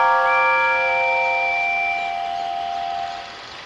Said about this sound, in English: The engines whistled excited.